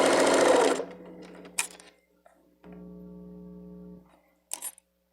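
A sewing machine stitches fabric for a small bag, a loud burst of rapid whirring followed by a shorter, steadier run of stitching after a pause, close and mechanical, with brief clicks between.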